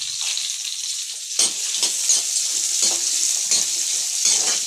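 Chillies fry in a pan for fennel chutney, with a bright continuous sizzle broken by several scraping bursts of stirring against the metal, close and fairly loud.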